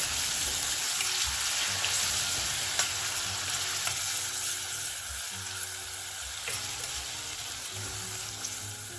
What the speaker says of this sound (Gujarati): આદુ મરચાં લસણની પેસ્ટ એડ કરીશું અને એને પણ આપણે અડધી મિનિટ જેવું સાંતળી લઈશું